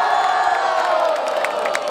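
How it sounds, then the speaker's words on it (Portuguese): A live crowd at a Brazilian rap battle event roars with sustained cheering, whoops and shouting, loud and dense throughout with no pauses. "Muito barulho para Toddy."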